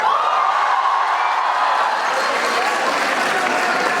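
An audience at a live stage event claps in dense, sustained applause that fills the space evenly and stays loud throughout, with a few faint cheers mixed in.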